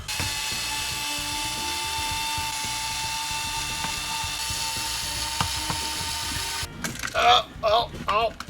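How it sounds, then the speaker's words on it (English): Unscrewing two screws to take the stock off a Zuru X-Shot Vigilante blaster, a steady mechanical ratcheting whir up close for several seconds, followed by a few plastic clicks and handling noises. "you can most likely just take out like these 2 screws right here and remove the stock entirely"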